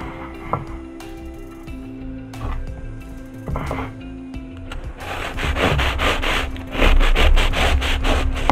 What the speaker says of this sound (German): Jetzt schneide ich euch mal einen auf, damit ihr das Innenleben sehen könnt.